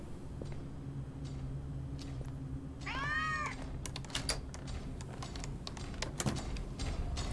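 A cat meows once in the horror video game Case 2 Animatronics Survival, a short rising and falling call partway through, set over a low background hum with scattered clicks and taps.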